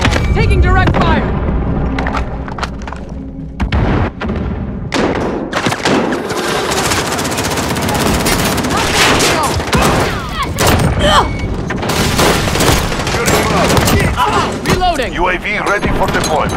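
Sustained gunfire in a Call of Duty Modern Warfare 2019 multiplayer Domination match, with dense, loud bursts of shots, thuds and explosive booms running nearly nonstop, and a few short gaps where voices and radio callouts come through.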